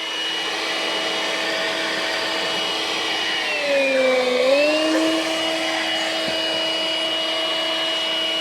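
Makita handheld vacuum cleaning motorhome window tracks, a loud steady motor whine with a brief pitch dip midway as the nozzle meets debris, continuous and close.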